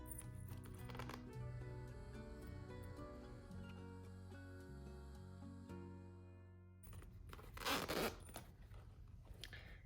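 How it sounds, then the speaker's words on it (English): A metal zipper on a handmade sewn boxy bag is drawn closed in a few close scraping runs, with faint handling clicks between pulls and a louder final zip near the end. "This way I'm gonna close my zipper"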